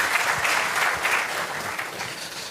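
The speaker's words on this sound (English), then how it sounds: "Another round of applause for our foreign service." An audience claps at a Ghanaian heads of mission and envoys conference, a sustained, fairly close round of applause with some louder individual claps standing out.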